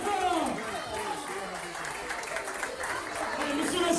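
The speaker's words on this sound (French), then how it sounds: "On l'applaudit très très fort." An audience applauds at a year-end school show for crèche and toddler classes, a steady wash of clapping from a crowd that carries on under an announcer's voice and murmuring.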